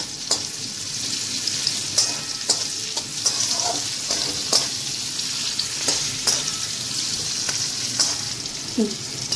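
Capsicum frying with salt in a pan gives a steady, close sizzle with repeated stirring scrapes and clinks throughout, no talk.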